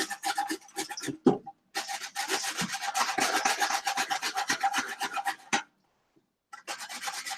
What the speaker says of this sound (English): you just take your quartered pieces of cauliflower and you grate it